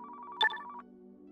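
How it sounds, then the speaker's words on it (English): A telephone in the Car Mechanic Simulator 2015 video game gives a short electronic ring, a pulsing buzzy tone with a bright chime burst, then cuts off into a low hum. "Answer the phone."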